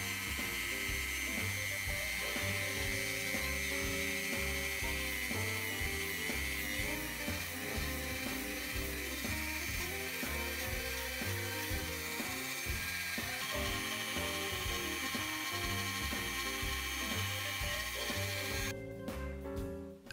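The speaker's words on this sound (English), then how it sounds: "I trimmed off all the edges before doing some more molding with my Dremel and a sanding drum." Dremel rotary tool fitted with a sanding drum shaping EVA foam, a steady high whine with grinding texture that runs continuously for about twenty seconds, close and fairly loud, with no talk.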